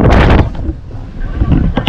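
Wind at sea rushing over a small tuna fishing boat in a strong southwest monsoon, heard as loud, gusty buffeting against the microphone with a rumbling undertone.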